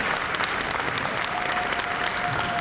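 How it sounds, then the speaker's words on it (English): Loud, dense applause from a concert audience at a high school rock orchestra show, a continuous wash of many hands clapping throughout with no break. "He deserves more applause"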